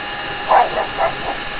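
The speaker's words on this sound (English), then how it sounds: "Sorry about the dogs." A few dog barks at a distance, three or four short woofs spread across a second or so, over a faint steady background hum.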